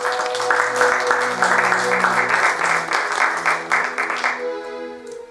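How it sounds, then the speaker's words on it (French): Congregation in a French church service applauding the newly baptised, a loud, sustained crowd clapping over held organ or keyboard chords, tapering off near the end. "Est-ce qu'on peut acclamer le Seigneur pour eux?"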